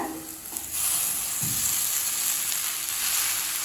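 Chili powder sautéing in a frying pan gives a steady, close hiss of sizzling oil with a faint stir scrape, continuous and alone.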